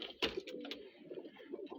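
Pigeons coo softly inside a dovecote with meat-breed birds, a faint, close, low warbling coo with a brief flutter-like burst near the start and no talking.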